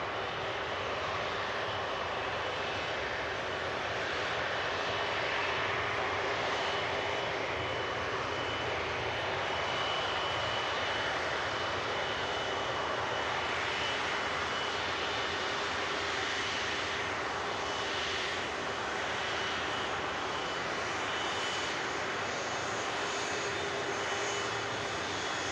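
An airliner arriving at Manchester Airport in strong winds sets up a loud, steady jet engine roar that runs continuously for the whole stretch, broad and rushing, with no voices over it.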